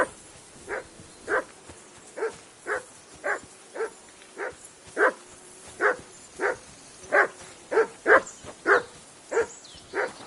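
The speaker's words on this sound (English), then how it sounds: "Call off that mutt of yours!" Dog barking in the video game Kingdom Come Deliverance 2: a steady series of about sixteen sharp, evenly spaced barks, fairly close and loud, with no talk over them.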